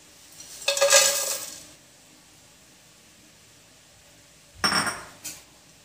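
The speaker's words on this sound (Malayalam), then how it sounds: "ഇനി നല്ലോണം കിളക്കി കൊടുക്കണം." Spice masala is stirred into hot ghee in a pan for biryani, two short bursts of metal spoon scraping and clattering against the pan separated by quiet faint sizzling.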